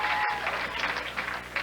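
Crowd at a professional bowling tournament, the 1998 PBA Brunswick World Tournament of Champions, cheering and clapping in a steady, dense wash of applause with scattered shouts and no break.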